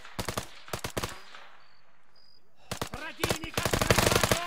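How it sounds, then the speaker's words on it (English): Bursts of automatic gunfire in the military shooter ARMA 3, loud close rapid strings of shots with a short quiet gap, then heavier sustained fire toward the end. "I'm shooting over your right shoulder."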